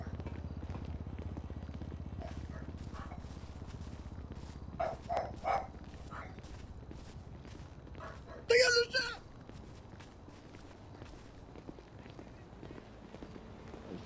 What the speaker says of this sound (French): le chien du Sécar, il aboie fort